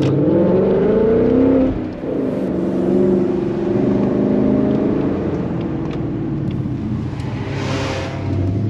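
A car engine on the winding mountain road of Tail of the Dragon rises loudly as a vehicle approaches and passes close by, then settles into a steady nearby engine drone that lasts to the end.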